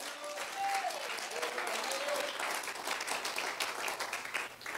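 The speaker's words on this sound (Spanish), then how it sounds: "Dale un aplauso al Señor." Church congregation clapping in a full, sustained round of applause, with a few voices calling out faintly beneath it and a low hum in the background.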